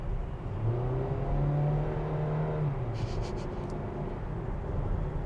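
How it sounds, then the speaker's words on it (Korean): Kia Seltos hybrid engine droning into the cabin under acceleration, a steady low hum and rising tonal whine that builds then eases, with a few faint higher clicks midway. "엔진룸에서 뚫고 들어오는 진동 소음이"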